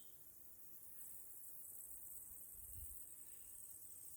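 Crickets chirp outdoors in a rainy rural garden, a continuous high, faint shrill trill over low rumbling background noise, with no voices.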